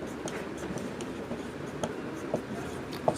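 Faint scratching of a pen writing an answer by hand on paper, soft continuous strokes with a few small taps, close and quiet.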